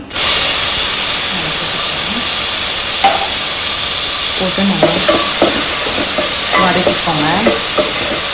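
A large onion sautéing with cumin seeds in a hot pan while pav bhaji is being made: a loud, continuous close sizzle and hiss with occasional spoon scrapes and stirring clinks.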